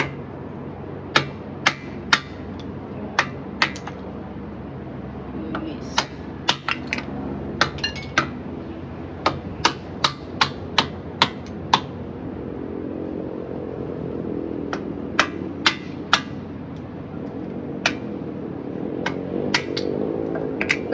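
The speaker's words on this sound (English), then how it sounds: "So I have my hammer to make it easier for me to break." A hammer strikes fresh corn being broken into pieces for boiling, sharp metallic knocks repeated irregularly over a faint room background, some in quick clusters and others spaced apart.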